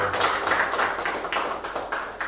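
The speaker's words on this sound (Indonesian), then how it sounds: "tepuk tangan untuk kelompok 1 dan kelompok" Classroom of teachers clapping for two presenting groups during a school training session, a dense, steady patter of hands for a couple of seconds.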